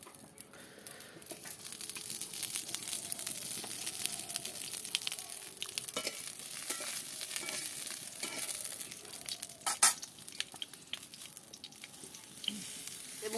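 Cut brinjal frying in a kadai gives a steady, faint sizzle throughout, with occasional crackles and a louder pop near the end. No voices are heard.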